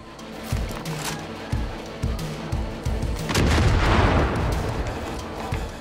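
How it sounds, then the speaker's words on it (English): Repeated heavy booms of bombing in the Far Cry 5 video game, arriving roughly every half second and then merging into a denser, rumbling barrage that swells midway and keeps going to the end. "I don't know why they're bombing their own place here."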